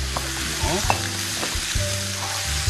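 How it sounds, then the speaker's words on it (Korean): Mushrooms and spinach stir-frying in olive oil in a pan, a steady close sizzle with stirring scrapes, no talk. "볶아주시고요"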